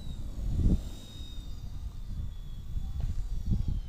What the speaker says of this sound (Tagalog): kasalukuyan lumilipad yung ano, yung Firefox C129 RC helicopter